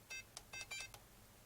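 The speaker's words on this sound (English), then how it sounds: "we should get the higher pitched beep" A radio transmitter emits a quick run of electronic beeps, several short tones in an uneven sequence, faint and clean against a quiet background.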